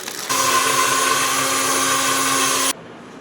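Kitchen mixer grinder pureeing tomatoes for a village-style chicken curry, a loud, steady high-pitched whir that starts abruptly, runs evenly for about two and a half seconds, then cuts off.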